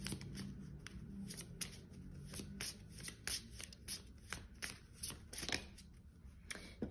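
Oracle cards are shuffled by hand in a quiet room, producing a rapid run of soft riffling flicks and slaps, close and fairly faint, without talk.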